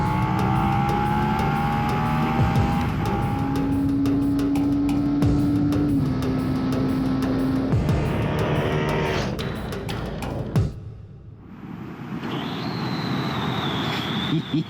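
A 2017 Suzuki SV650 motorcycle ridden hard, its engine revving loudly and steadily through rising and falling pitches, briefly dropping away before surging again, close and continuous with no talk over it.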